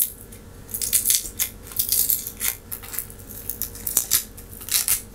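Press'n Seal plastic wrap being peeled and ripped off the back of resin art coasters, a run of crackling, crinkling tears and rustles, close and alone with no talk.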